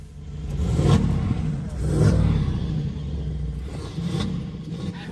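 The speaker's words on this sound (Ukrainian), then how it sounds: "Це вихлоп Акрапович." A Mercedes G63 with an Akrapovic exhaust revs twice in deep, throaty rumbles, then settles to a low idle before a third, shorter blip of throttle.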